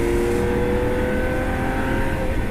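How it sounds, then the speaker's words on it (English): A 2013 Lamborghini Aventador LP700-4 Roadster's V12 engine roars steadily and loudly with the rear window lowered, a dense continuous drone with no pauses or voices. "you hear the full song of that V12 and it changes its character entirely"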